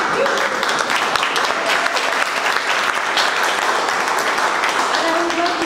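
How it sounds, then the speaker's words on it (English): An audience at an anniversary event for a democracy endowment claps steadily, a dense, sustained wash of applause that fills the whole stretch at even loudness, with faint voices mixed in. "they deserve our applause"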